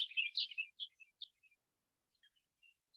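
Birds chirp and sing in a backyard, several short bright calls close together at first, then thinning to sparse, fainter chirps over quiet background.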